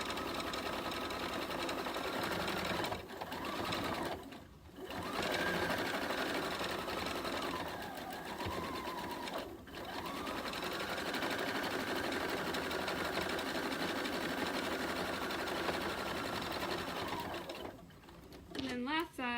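A sewing machine stitches a pillow made from a placemat and sweatshirt, running in a steady, continuous whir broken by a few brief stops as the fabric is turned, while a person talks over it.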